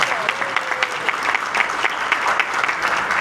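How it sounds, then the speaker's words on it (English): An audience at a San Gabriel Valley caucus event bursts into warm, sustained applause, dense clapping from a full room with a few cheers, loud and steady throughout. "So I want to give her another special applause."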